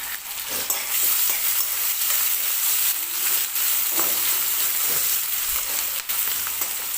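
Onion and curry leaves sautéing in hot oil for dal khichdi, a steady close sizzle with scraping stirs now and then and no talking.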